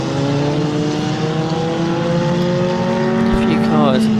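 Historic Formula Ford race cars at Snetterton howl past in a steady, high engine drone. Several engines layer together and one pitch shifts near the end, under commentary.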